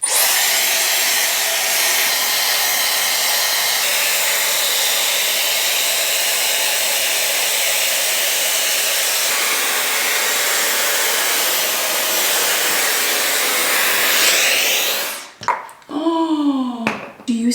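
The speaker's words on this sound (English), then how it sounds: "maybe I should do a little blow dry first." A hair dryer blows a steady, loud, unbroken roar across wet hair for about fifteen seconds, then cuts off abruptly, leaving a few brief clicks and handling noises.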